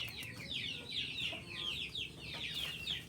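Chickens cluck and chatter in quick bursts on a farm during a typhoon, over steady low background noise, several birds close by with no pauses.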